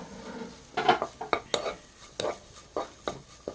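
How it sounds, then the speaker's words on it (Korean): Spices, vegetables and oyster mushrooms are stir-fried in a pan, and a utensil scrapes and clinks against the metal in irregular bursts over a faint sizzle, close and fairly quiet. "볶아줍니다"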